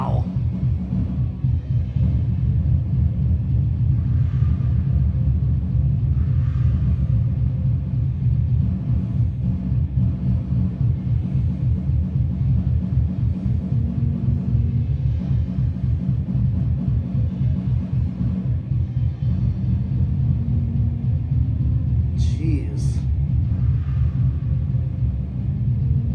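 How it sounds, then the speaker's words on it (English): A Craftmade Cameo ceiling fan with a heavy motor coasting through a long spin-down, giving a steady low hum and rumble that holds for the whole stretch, close and fairly loud with no talking. "this is such a heavy motor. So yeah, it's gonna have a long spin down."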